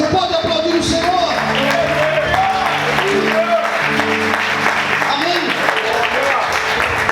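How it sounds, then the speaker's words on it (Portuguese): A church congregation claps together in sustained applause, loud and steady throughout, while a preacher's amplified voice speaks over it. "Você pode aplaudir o Senhor?"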